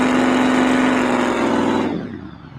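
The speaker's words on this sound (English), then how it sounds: "Is that engine sound too loud for y'all?" A small radio-controlled rock crawler's electric motor whines steadily and loudly at a rock crawl event, holding an even high-pitched tone before easing off and fading near the end.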